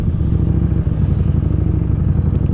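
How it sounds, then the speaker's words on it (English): Harley-Davidson Street Rod motorcycle engine revving while riding through downtown Dubai, a loud, close, rough exhaust roar that stays strong and continuous for a couple of seconds with no talking. "It revs really high, surprisingly, for a Harley."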